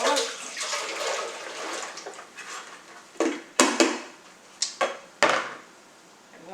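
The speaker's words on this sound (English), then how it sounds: "strain our potatoes in this little contraption I've concocted" Water from boiled potatoes splashes and trickles through a strainer into a pot, followed by several sharp clattering knocks as it is shaken.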